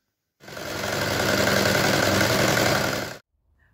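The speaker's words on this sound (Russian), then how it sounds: "И теперь их сошью на швейной машинке." A sewing machine stitches agrospan agricultural fabric in one continuous, even motor whir with a rapid needle rhythm, starting abruptly, running close and steady for almost three seconds, then stopping cleanly.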